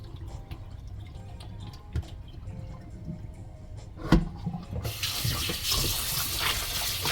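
Kitchen tap water rushes steadily into a pan while chicken gizzards are washed for Jamaican curry gizzards, starting after a few quiet clinks and handling sounds and continuing as a close, loud splashing flow.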